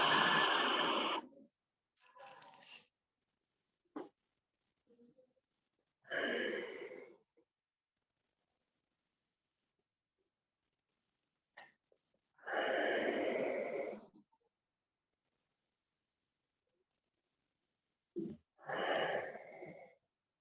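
Slow, deep breaths during a yin yoga session for back and hips, four or five long airy inhales and exhales separated by quiet pauses, close and soft with no other sounds.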